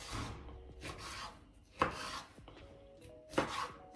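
A knife chopping bell pepper into cubes on a board, several close, crisp cuts with a couple of louder knocks and brief scraping between strokes, no talk.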